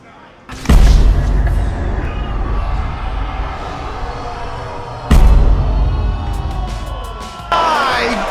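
Heavy, booming impacts of a wrestler slammed hard onto the ring in a pro wrestling match, two big thuds a few seconds apart over a loud roaring arena crowd.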